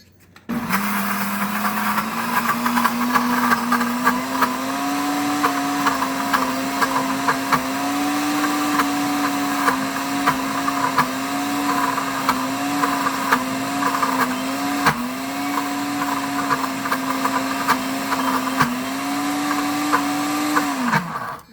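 Pampered Chef Deluxe Cooking Blender pulsing Nutella, a loud steady motor whine that runs continuously for about twenty seconds with slight dips in pitch as the blade churns the thick spread, heard alone.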